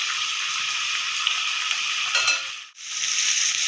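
Fish fillets, washed with lemon juice and salt, fry in a pan for a yogurt fish curry, giving a steady, close, bright sizzle that briefly dips near the end before resuming.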